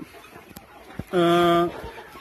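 A single chicken gives a loud, drawn-out squawk close by, set against a quiet background with faint clucks and scuffling as the birds are stirred about with a stick.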